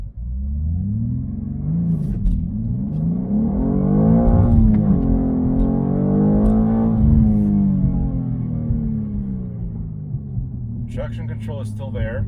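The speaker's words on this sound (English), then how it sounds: "let me change the camera and show you how this car accelerates" A 2023 BMW M2 accelerates hard from a standstill to 60 mph, its engine rumbling loudly with rising and shifting revs across a dozen seconds, close up and steady, with a brief higher whir near the end.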